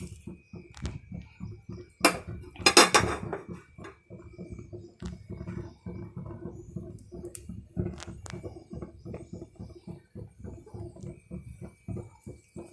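Spices dropped into hot oil in a clay pot for country chicken, giving soft crackles and light scrapes, with a brief clattering burst near the middle and quiet rustling stirring throughout.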